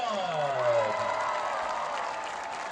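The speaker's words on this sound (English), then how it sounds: "how about a nice cheer for the Central Valley Varsity Cheerleading Squad?" A high school football crowd cheers and applauds for the varsity cheerleading squad in a broad, steady wash of noise. A falling whistle-like tone sweeps across the start.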